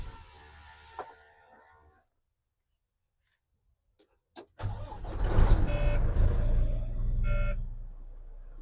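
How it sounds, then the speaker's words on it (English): A truck engine is cranked and starts during a CDL inside-cab pre-trip inspection: after a quiet pause, a short click, then the engine catches and settles into a steady, close rumble with faint beeping chimes. "we're going to start the truck back up"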